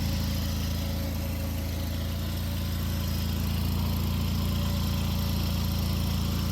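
A Wheel Horse 520H garden tractor with hydrostatic drive runs steadily at idle close by, its low, even engine drone continuing unbroken with no talk.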